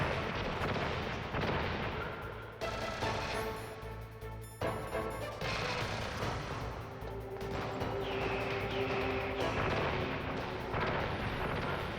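Rocket fire and explosions from the Metal Gear Solid video game: dense, continuous booming blasts and gunfire-like bursts filling the whole stretch, loud and layered with game music tones, no talk.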